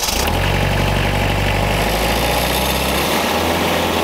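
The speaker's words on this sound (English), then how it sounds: "we're gonna start the tractor up here" A tractor engine cranks and catches, then settles into a loud, steady, low idle that rumbles on without any voices.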